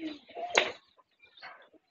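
A pigeon coos softly and close by in a couple of short, low calls separated by a brief pause, with a sharp noise in between.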